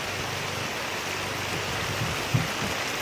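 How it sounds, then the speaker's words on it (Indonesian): Heavy rain pours steadily as a dense, even hiss beginning to fall around a parked bus, with faint low rumbling and a small knock near the end. "Wah, ini hujan sudah mulai turun, kelihatannya sih lumayan deras."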